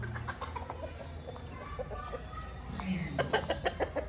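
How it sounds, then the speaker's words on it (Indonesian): Chickens cluck and chatter nearby among pigeons and other bird calls at a resort mini zoo in Bogor, with faint talking in the background. "ini untuk ayamnya dari sebelah sini"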